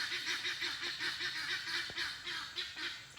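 Guinea fowl calling in a rapid, rhythmic series of harsh, scratchy cackles that repeat steadily, faint and somewhat distant in an outdoor setting, with no talk over them.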